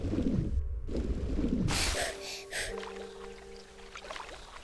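Lara Croft gasps for breath after surfacing from water in a Tomb Raider level set in a garden, a short sharp intake of air among water splashes and game sounds.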